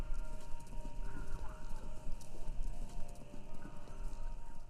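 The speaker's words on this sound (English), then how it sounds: "it was a heartbeat, but it was horse hooves" Horse hooves clip-clop steadily in the video game Kentucky Route Zero, a continuous rhythmic trotting over a low ambient hum, moderately close and without talk.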